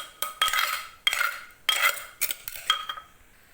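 Seasoned chili dip for steamed fish being spooned into a bowl, with about five sharp metallic clinks and scrapes of spoon on dish in quick succession, close and clear with no talking.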